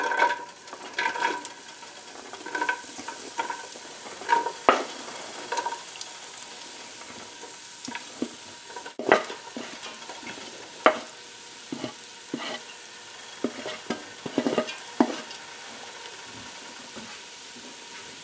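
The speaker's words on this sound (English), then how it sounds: "Once your oil has reached medium heat, add in your onions and garlic." Onions and garlic fry in oil over medium heat with a soft, steady sizzle, broken by scraping clinks of a utensil stirring the pan, close and unaccompanied by talk.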